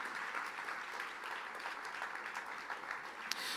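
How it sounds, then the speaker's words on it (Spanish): A church congregation claps in praise to the Lord during a worship service, a soft, even wash of applause that holds steady throughout, somewhat distant. "Fuerte ese aplauso de alabanza al Señor."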